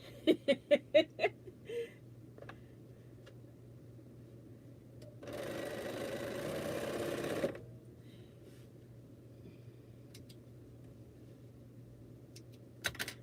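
A Bernina sewing machine stitches in a steady whirring burst of a couple of seconds, preceded by a few short needle taps and quiet clicks in an otherwise hushed room.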